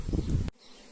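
A honeybee swarm pours out of a hive, making a dense, loud buzzing hum close by. It lasts about half a second, then cuts off abruptly to near quiet.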